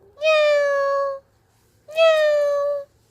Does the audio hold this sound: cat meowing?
yes